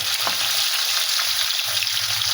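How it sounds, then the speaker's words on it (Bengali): Parshe fish fry in hot oil in a home kitchen, cooking for a cauliflower and potato curry. A close, continuous sizzle carries on without talk. "তেল গরম হয়ে গেছে, এবারে আমি এই পার্শে মাছগুলো ভেজে নেব"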